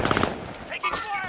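Gunfire in the video game Call of Duty Warzone, with a burst of rapid shots at the start and further shots and game effects continuing under overlapping voice chat.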